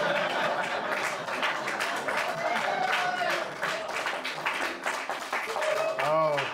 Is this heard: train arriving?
no